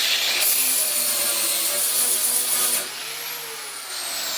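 Angle grinder running in a welding shop on an old rotten van, a loud continuous high whine with shifting pitch that drops in level partway through, then continues at a steady drone.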